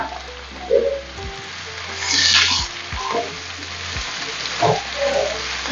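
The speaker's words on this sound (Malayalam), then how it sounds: "നമുക്കിനി ക്യാപ്സിക്കം അങ്ങോട്ടിടാം" Chopped capsicum sizzles loudly in a hot pan while pasta is being made, with steady frying hiss and a few scraping stirs, no voices.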